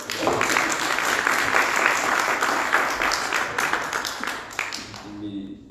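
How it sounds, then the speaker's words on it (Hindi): A church congregation at a Mother's Day service claps loudly and steadily, a dense, close wash of many hands that carries on for several seconds before thinning out and fading at the end. "आइए खुदा उनके जलाल के लिए जोरदार ताली।"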